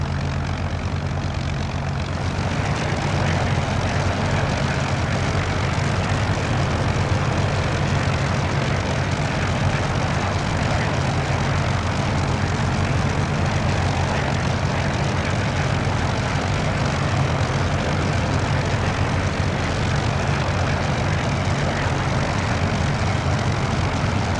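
A Hawker Hurricane's piston engine and propeller in level flight in the Prepar3D simulator, a steady loud droning roar with deep low rumble that holds unchanged throughout, no talking.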